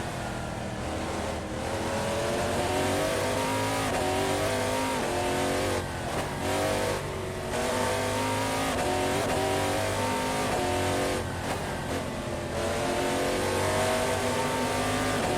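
An Audi TT Cup race car engine in Assetto Corsa, racing at the Nürburgring, drones steadily and loudly throughout, rising and falling as it revs through gear changes, with brief dips in pitch on shifts.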